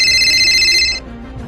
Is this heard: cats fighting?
no